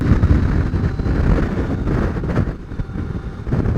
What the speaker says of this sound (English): I am being battered around the place by this wind.